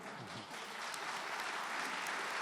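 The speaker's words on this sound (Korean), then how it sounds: "another big round of applause to congratulate President Trump" Guests at a state banquet in Korea honoring President Trump fill the hall with dense, sustained applause, an even roar of many hands with no pauses.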